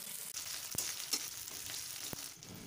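Chopped onion sizzles in hot oil, a steady crackling hiss with a couple of sharp clicks as it is stirred, fairly quiet and with no voices.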